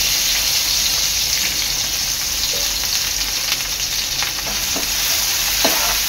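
Bay leaf, red chili and finely chopped onion frying in well-heated oil give off a loud, continuous sizzle, with occasional spatula scrapes and pops toward the end.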